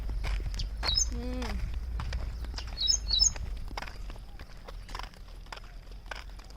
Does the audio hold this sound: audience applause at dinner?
no